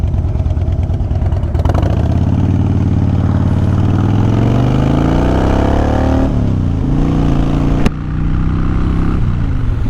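A Harley-Davidson motorcycle pulls away from a cycle shop in West Bridgewater, Massachusetts, its loud, close engine idling, then revving up through rising pitch before easing and shifting, with no talk.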